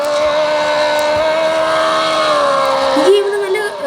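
Nissan GT-R in a racing video game revving at high pitch, a loud sustained engine whine that wavers and drops near the end as the car slides.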